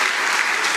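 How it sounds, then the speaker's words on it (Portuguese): A church congregation applauds loudly in a brief, dense burst of many hands clapping at once, steady and full for under a second. "Eu queria que você aplaudisse bem forte e desse um glória a Deus o mais forte que você puder"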